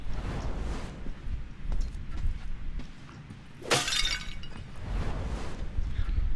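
A glass vase shatters in the video game Thief, a single bright crash with a tinkling spray of shards cutting through a low, muffled ambient rumble and footsteps.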